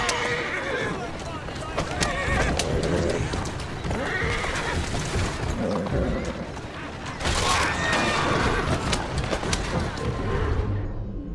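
A horse whinnies and snorts over a steady, busy soundtrack in the game Assassin's Creed Syndicate, with hooves clopping and dull thuds; a brief louder burst comes partway through.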